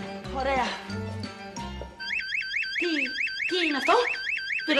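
A car alarm wails in a rising and falling electronic siren pattern, sounding over people talking nearby.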